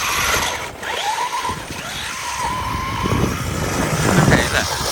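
A Vetta Karoo car spins its old tyres on ice, a rough mechanical whirring and grinding with a rising, wavering whine, fairly close and continuous over several seconds.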